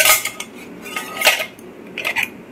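Metal pots and a ladle clatter and clink as lids are set over them in a home kitchen, several sharp bursts of metallic knocking spread across the moment, close and fairly loud, with no talking.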